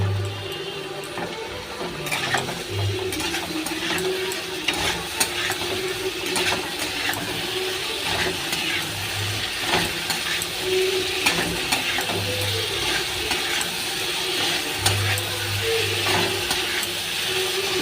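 Katla fish curry spices cooked down with turmeric and a little water in a pan, heard as a steady close sizzle with intermittent stirring scrapes and low rumbling, continuous throughout with no speech.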